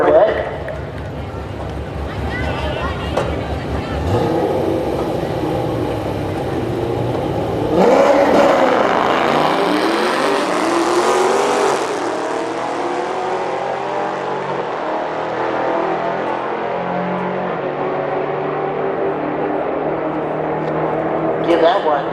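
A C6 Corvette and a Dodge Charger launch in a drag race, engines roaring loud and close before rising in a sustained high-revving run that fades slightly, with crowd or announcer voices mixed underneath.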